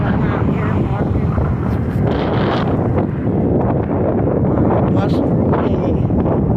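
Strong blustery wind buffets the microphone on an outdoor spring walk, a loud continuous roar with gusty rumbling and rustle throughout.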